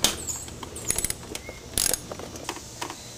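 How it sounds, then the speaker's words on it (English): A ratchet wrench clicks as it loosens an 11 mm bolt joining the upper and lower intake manifolds on a 1997 BMW Z3, sounding as close, irregular bursts of ratcheting clicks with no voices. "Take off this bolt in the center, also 11 millimeter, which connects the upper intake manifold to the lower intake manifold."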